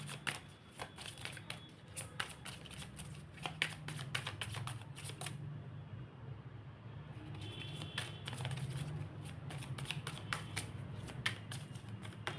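Tarot cards being shuffled in a steady run of crisp, rapid riffling flutters with a brief pause midway, close and moderately loud over a low background hum, no voices.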